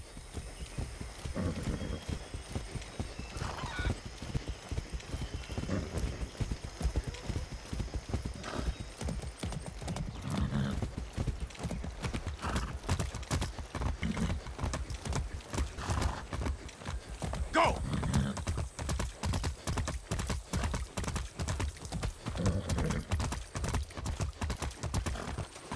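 In the video game Far Cry 6, horse hooves clop steadily in a fast rhythm throughout, with occasional snorts or whinnies over the continuous galloping beat.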